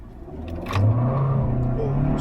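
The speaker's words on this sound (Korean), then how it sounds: "급가속을 먼저 한번 해보도록 하겠습니다. 드라이브 모드를 스포츠에다 두고" A Hyundai Sonata The Edge turbo in sport mode launches under hard acceleration, a short surge of rising engine and tire roar swelling from a steady hum.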